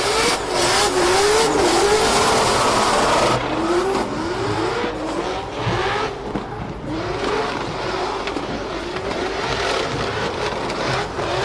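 Drift cars battling in a drifting competition roar past with revving engines, rising and falling pitch, and squealing, skidding tires, loud and continuous.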